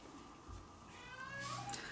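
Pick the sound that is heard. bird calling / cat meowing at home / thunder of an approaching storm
cat meowing at home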